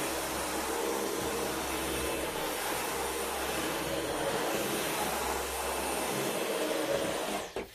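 A V11 vacuum cleaner picking up scattered tea on a hard floor, a loud continuous whine and roar holding steady throughout before switching off at the very end.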